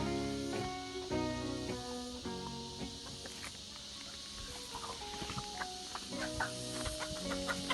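A flock of chickens being fed on a mountain farm clucks steadily, with many overlapping calls close by and a few louder squawks scattered throughout, and no one speaking.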